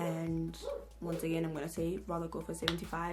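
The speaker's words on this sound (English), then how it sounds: "I'm so sorry about the dog." A dog barks repeatedly in the background of a room while someone talks, the short yapping barks falling in an uneven rhythm between and under her words.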